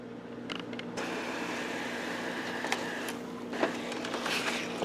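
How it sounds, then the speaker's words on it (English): An Epson Artisan 1430 inkjet printer prints a nozzle check and a 12 by 18 photo: a steady mechanical hum of the carriage and feed, with a few short clicks and whirs along the way, close by. "we're going to print out a nozzle, and we're also going to print out a 12 by 18 photo"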